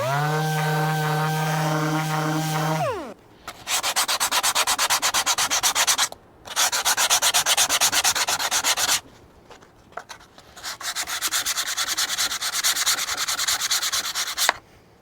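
A power sander works over filled staple holes on a custom console build for a Cummins-swapped square body K30 truck. A rising motor whine leads into three long, loud, gritty bursts of sanding separated by brief pauses.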